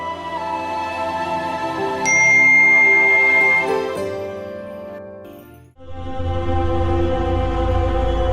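A phone ringtone plays a tinkling, chiming melody of sustained tones, pausing briefly before the ringing resumes, loud and close with no talking.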